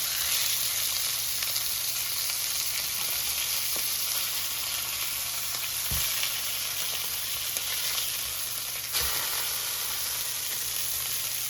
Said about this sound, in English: Now the grouper has been cooking for 5 minutes on this side, and it's time to flip it over.